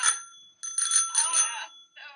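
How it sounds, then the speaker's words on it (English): A bell on a 1936 Swiss Army bicycle rings in several quick bright trills, close and clear, with short gaps between rings and no talk over it. "I got a bell. It sounds like this."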